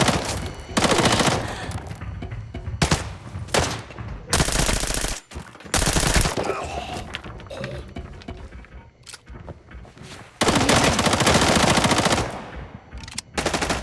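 Automatic and single gunfire from the video game Arena Breakout comes in loud, dense bursts with short gaps between them, close and continuous through most of the clip.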